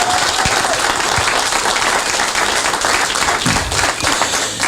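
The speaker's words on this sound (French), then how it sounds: "une main d'applaudissement à Karim pour tout le travail qu'il fait" Dense, sustained audience applause at a book launch, honoring battery scientist Karim Zahib, a steady full-room roar of many hands clapping without a break.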